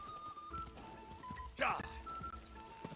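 A horse gallops in Kingdom Come: Deliverance II, a steady run of rhythmic hoof beats with a brief louder whinny-like burst midway, under constant chatter from a player.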